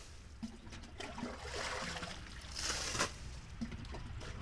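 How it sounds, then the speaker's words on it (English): A bucket scooping water out of a bison water tank by hand on a cold day, with soft sloshing, trickling and splashing close by and a few louder dips and pours. "We just pretty much use the bucket and scoop it out by hand"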